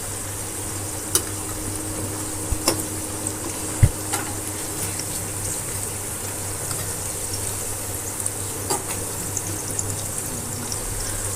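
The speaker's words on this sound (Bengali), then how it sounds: "উল্টায় উল্টায় দিয়ে ভালোভাবে ভেজে নেব।" Pieces of prison cake fry in oil in a pan and are turned over, giving a steady low sizzle with a constant hum beneath and occasional sharp clicks of a utensil. No one speaks.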